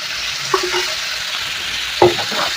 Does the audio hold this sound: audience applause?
no